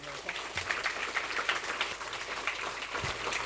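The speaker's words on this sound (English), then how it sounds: "let us welcome Professor Baker on stage with a big round of applause" An audience at an academic lecture applauds steadily, a dense even patter of many hands clapping at moderate distance with no pauses, welcoming a speaker.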